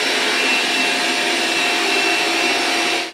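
A DreameBot L10s Pro Ultra Heat robot vacuum runs at a steady, loud whir with a constant airy hiss that holds evenly throughout before cutting off abruptly at the end.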